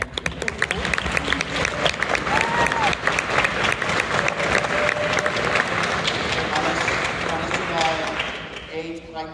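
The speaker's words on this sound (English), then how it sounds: "if we can give a round of applause to our admin" Audience applause fills a high school orchestra concert hall, a long dense roll of clapping with some cheering and crowd noise, fading out near the end as a voice briefly begins.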